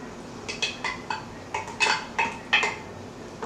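A spoon clinks and scrapes against the inner pot of an Instant Pot while heavy whipping cream is stirred into tomato soup, a quick series of bright metallic taps close by.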